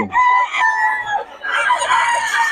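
A stag gamefowl rooster crowing close and loud, one drawn-out harsh crow with a wavering, strained pitch, followed by a second rough burst of calling.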